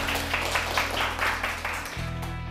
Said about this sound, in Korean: 오한구 대표님을 큰 박수로 맞이해 주세요